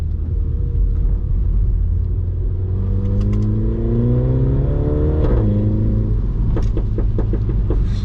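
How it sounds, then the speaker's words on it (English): Mini John Cooper Works engine accelerating while driving on snow and slush, a loud, steady rumble rising in pitch as the revs climb, heard from inside the cabin with no talking. "when I listen to this car and it just makes noises, I cannot help but smile"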